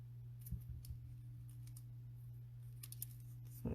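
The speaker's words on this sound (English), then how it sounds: "I'm going to cut this little part off too." Scissors cut fabric quietly up close in a few scattered snips and clicks over a low steady electrical hum.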